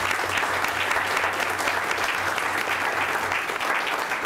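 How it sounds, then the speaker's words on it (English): A room of attendees at a Salem city council meeting applauds in sustained, dense clapping that stays even and full throughout, with no voices standing out. "I'd like to offer an applause to you."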